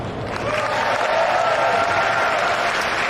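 A convention crowd at BlizzCon 2009 breaks into steady applause and cheering, a dense wash of clapping and shouts that swells in the first half-second and holds loud and continuous throughout.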